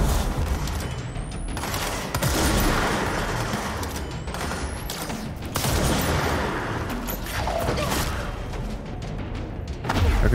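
Sustained gunfire in the video game Control rumbles on as a dense, continuous fusillade with heavy booms and sharp bursts, fairly distant and slightly muffled, swelling in several waves.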